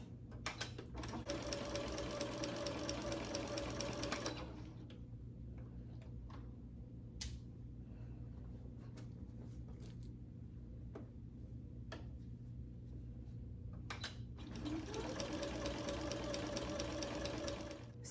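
Sewing machine fitted with a walking foot stitches a sweatshirt seam in two close, rapid mechanical bursts, the first about four seconds and the second near the end, separated by a quiet stretch of faint ticks and handling.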